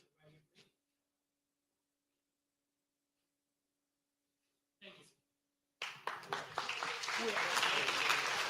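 At a youth leadership conference in Nassau, Bahamas, a couple of brief sounds break a long quiet stretch before an audience bursts into sustained, dense applause for scholarship recipients that holds to the end.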